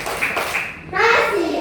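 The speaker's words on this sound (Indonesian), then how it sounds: "Tepuk tangan buat semuanya" Children in an elementary school classroom clap together with mixed children's voices, the clapping loud and close, swelling after a short dip midway.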